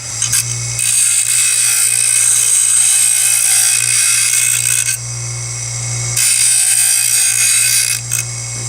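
A silverware edge is smoothed against a spinning fiber wheel, a loud steady motor whir with a high grinding hiss that drops briefly in the middle as the piece is lifted, then resumes.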